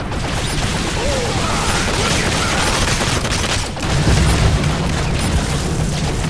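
The dragon gun in the video game Evolve fires, a dense, continuous roar of crackling blasts and rumbling booms that stays loud throughout, with a heavier low thump swelling near the end.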